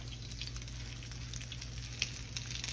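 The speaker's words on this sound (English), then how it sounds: "We're just gonna put them right in the skillet, y'all." Leftover-fish cakes, lightly breaded patties, frying in a skillet, giving a soft, steady sizzle and crackle with a few faint pops, no talking.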